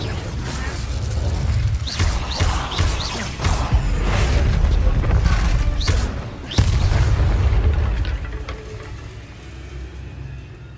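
An Incendio fire spell cast in Hogwarts Legacy, a loud, dense roar of booming bursts and mechanical rumble lasting several seconds before fading slightly, with crackling pops on top.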